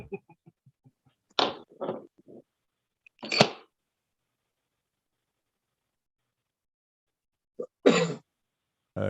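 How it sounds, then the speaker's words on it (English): Several short, sharp coughs and throat clearings in separate bursts, with quiet gaps between them and a few faint clicks near the start. "Start coughing."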